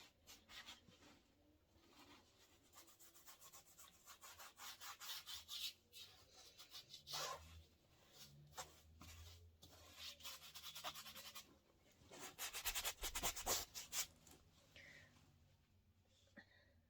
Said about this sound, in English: Scrubbing sounds.